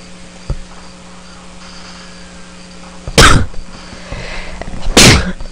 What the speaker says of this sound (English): Sorry, sneezing, and I probably bumped the microphone